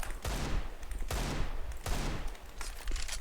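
Rapid bursts of handgun fire in the video game Counter-Strike 2, three loud volleys about a second apart, each with a sharp crack and a short decaying tail, with no talk over them.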